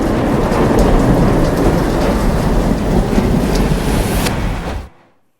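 Heavy overnight downpour with thunder in Coimbatore, India: a loud, dense roar of rain with rumbling that stays strong, then cuts off abruptly near the end.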